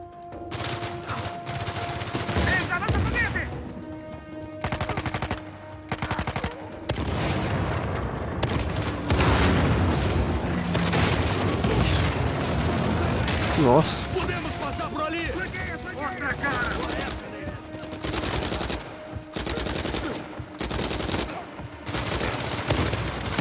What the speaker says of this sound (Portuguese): Quem tá atirando nas costas?